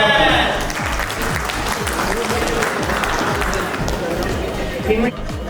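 Dense, loud clapping from a large audience at a training seminar, continuous and energetic with crowd noise underneath, dipping slightly near the end.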